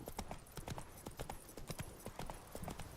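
Roach, Geralt's horse in The Witcher 3, clops along with steady, rhythmic hoofbeats, close and fairly clear, with no talk over them.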